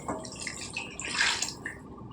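Water poured into a pan of drumstick curry with cashews, a short splashing, gurgling pour with bright droplet sounds that swells midway and then eases off, heard close and with no voices.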